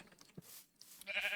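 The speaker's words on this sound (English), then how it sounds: "Boom. 2 little sheep." A Minecraft sheep bleats in a short, wavering cry that rises near the end, fairly quiet and heard alone amid faint game sounds.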